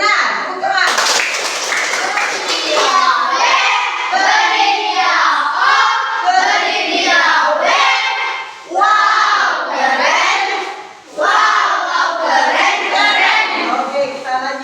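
A class of children gives a patterned clapping cheer, with rhythmic claps mixed with loud, sung chanting voices. It is close and energetic, with two brief pauses.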